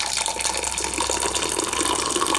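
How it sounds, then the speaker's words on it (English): A stream of hot water pours steadily from a Morphy Richards Redefine hot water dispenser into cups, a constant splashing gush at close range throughout. "I'm simply going to press the button to start dispensing the water"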